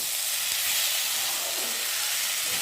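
Roasted broken wheat (dalia) lands in a hot pan of spices, and a loud, close, even hiss of sizzling carries on throughout with no talking.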